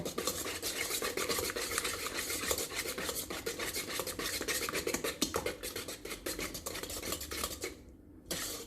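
Chocolate fudge cupcake batter being mixed with a mixer in a bowl, giving continuous rhythmic scraping and light clinking against the sides at close range, which briefly eases near the end.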